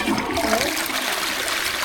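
Toilet flushing through a rim block: a loud, continuous rush of water swirls close by for the whole stretch, with no talking over it.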